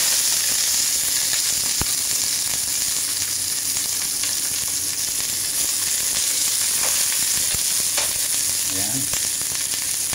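Garlic and onion frying in a pan on broccoli with igado, a loud, steady sizzle throughout with occasional stirring scrapes and a brief voice near the end.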